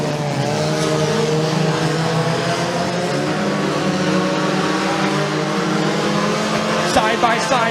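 Dirt-track race cars roar around Bradford Speedway in a heat race, engines droning loudly and continuously with shifting pitch as the pack passes, while an announcer talks over the track noise.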